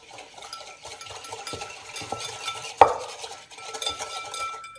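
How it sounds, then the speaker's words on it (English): A whisk stirs a thin, pancake-batter-like marinade in a bowl, steady light clinking and scraping at close range, with one sharp louder knock against the bowl partway through. "So just whisk this up."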